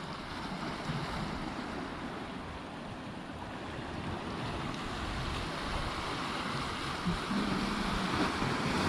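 Ocean surf rolling off Point Lobos, a steady broadband wash of waves with wind noise, continuous and fairly distant, no voices.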